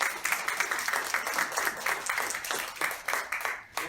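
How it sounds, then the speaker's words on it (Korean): A congregation at an outdoor Sunday service of a Korean church in Maryland claps to welcome a visitor, producing a brisk, close burst of many hands applauding steadily before tapering off. "잠깐 일어나 주시고 박수로 환영하겠습니다."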